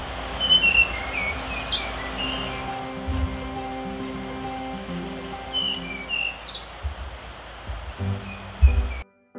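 A mangrove blue flycatcher's song comes as sparse, high chirps over a steady outdoor hiss of insects and rustling, fairly distant and faint.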